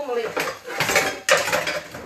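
A faithful old frying pan clatters and scrapes as mince is handled during home cooking of meat and vegetable samosas, with several sharp metallic knocks and clinks spread over about two seconds.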